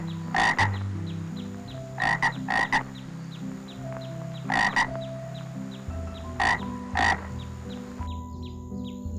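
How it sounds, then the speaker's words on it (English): A frog croaking in loud, close pairs of rasping croaks, repeated four times at an uneven pace over a steady background of music. "Frog. It's a frog."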